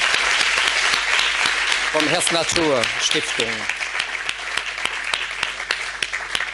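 An audience claps for Rolf Heimann at the close of a circular fashion evening. The applause is steady and moderately loud throughout, and someone speaks briefly over it partway through.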